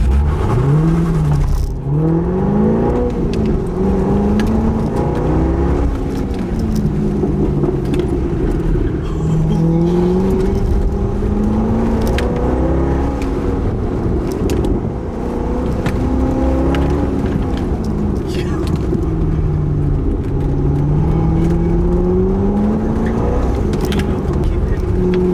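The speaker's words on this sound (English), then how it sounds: "But I did take this car on the autocross course." C6 Corvette V8 engine droning and rising and falling in pitch as it accelerates and slows through an autocross course, loud and continuous with a steady wind roar.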